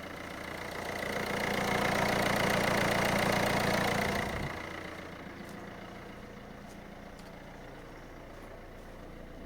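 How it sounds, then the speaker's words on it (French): A Peugeot 1.6 HDi diesel engine idles steadily after a cold start at about 4 degrees, a loud even rumble that drops noticeably in level about halfway through and then continues quieter and constant. "le moteur, il marche nickel au démarrage"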